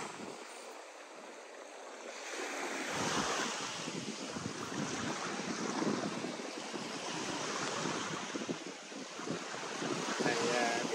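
Small ocean waves wash onto a beach under steady wind, a continuous broad surf roar with gentle swells rising and falling, wind buffeting the microphone throughout.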